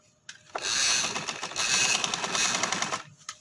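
A sewing machine stitching a V-neck on a garment, running in one loud, close, continuous burst of rapid needle clatter for about two and a half seconds before stopping.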